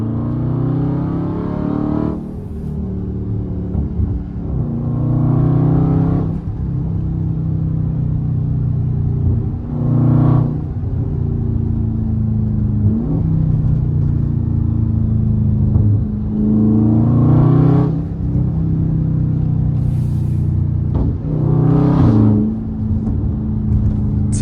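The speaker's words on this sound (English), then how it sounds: "You really want to hear your exhaust, hit them Backroads." A Scat Pack with the 392 engine roars along backroads, its exhaust a deep, loud, continuous rumble with repeated surges as the throttle opens and eases, heard from close up inside the car.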